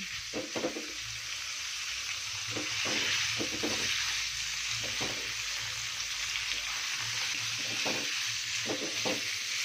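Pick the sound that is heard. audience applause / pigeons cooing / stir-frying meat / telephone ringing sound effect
stir-frying meat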